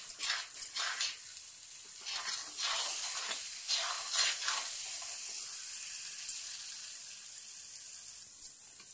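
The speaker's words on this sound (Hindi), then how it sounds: "तो मैं लगातार इसे चला रही हूँ" A carrot peda mixture thickening with sugar in a pan gives off a soft, steady sizzle while it is stirred, with faint scraping swishes repeating close by.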